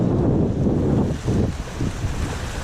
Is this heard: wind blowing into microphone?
yes